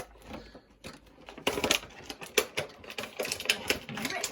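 Cardboard and plastic packaging of a wrestling action figure torn open by hand, a run of loud crackling, ripping and crunching bursts close up, growing busier toward the end.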